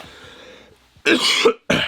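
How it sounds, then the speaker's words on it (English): Two harsh, loud coughs burst out close up after a quiet, breathy lead-in, separated by a short pause. "My throat is killing me. I've been coughing all day."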